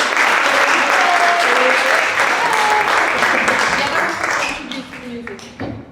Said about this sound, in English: So please give them a warm welcome applause.